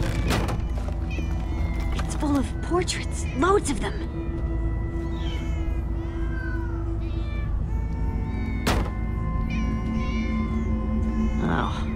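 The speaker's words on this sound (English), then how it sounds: "Ah, many cats! So many cats!" Several cats meow in the Minecraft: Story Mode video game, with repeated close, wavering cries spread across the scene over a steady background hum, while a voice speaks briefly between them.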